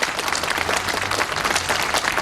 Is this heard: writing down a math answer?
no